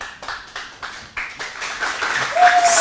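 Audience applause at a Haitian high school quiz competition between Lycée Jacques Roumain and Lycée R. Henry C., a run of claps and scattered taps building steadily louder over a few seconds, fairly close, with a brief tone near the end.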